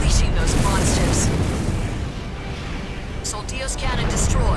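In Armored Core For Answer, a Soldios cannon explodes in a big, rumbling blast that carries through the whole moment, with crackling debris and hissing bursts, while a voice talks over it.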